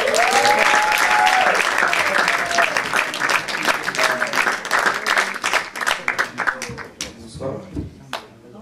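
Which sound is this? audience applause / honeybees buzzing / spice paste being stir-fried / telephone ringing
audience applause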